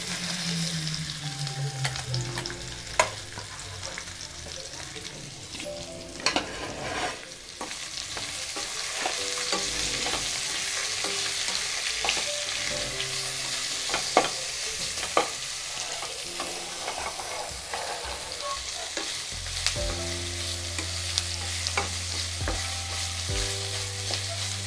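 Onions fry in hot oil with fennel seeds in a pan for a tomato kurma, sizzling steadily while a spoon stirs and scrapes through them in repeated strokes, with a low hum underneath and no talking.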